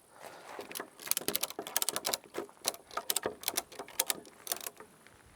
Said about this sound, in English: is that gonna stay there if I start ratcheting this down?